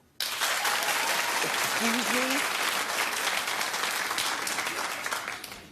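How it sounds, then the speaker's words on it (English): Studio audience at a daytime talk show claps loudly and steadily at close range after being asked to judge whether a pair of sneakers is ugly, with a voice speaking briefly over the applause. "Clap if they're ugly."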